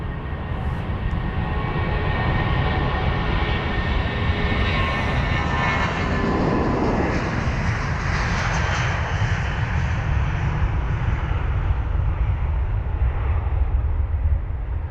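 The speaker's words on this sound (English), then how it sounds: "And off that aircraft goes, amazing." A jet airliner at London Heathrow takes off with a loud, steady roar. A rushing swell builds midway and the broadband thunder sustains throughout.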